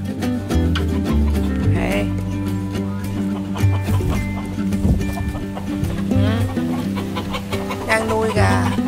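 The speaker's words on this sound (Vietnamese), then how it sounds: "Ở đây rất là nhiều gà." Many chickens cluck continuously nearby in a backyard garden with fruit trees, while people talk over the steady farmyard chatter.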